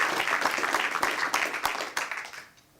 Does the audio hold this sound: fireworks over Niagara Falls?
no